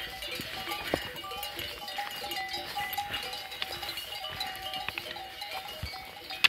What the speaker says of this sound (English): Loads of sheep in the mist on our trail today.